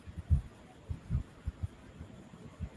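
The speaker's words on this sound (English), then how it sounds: "Bring all the attention to your heartbeat." A heartbeat thumps softly and low, in irregular pairs of dull beats spaced across the moment over a faint hum.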